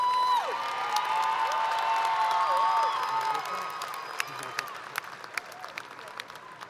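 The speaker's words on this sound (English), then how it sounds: "Let's give Amari a big round of applause." Applause and cheering from a graduation crowd at Dekaney High School's class of 2023 ceremony, loud and sustained at first with whoops rising over it, then thinning into scattered claps that fade toward the end.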